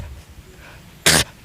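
A voice imitating a goat sneezing, one short sharp burst of breathy noise after a quiet pause.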